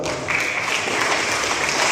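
A seated audience applauds at a school presentation on positive culture, with steady, dense clapping throughout and no voices over it.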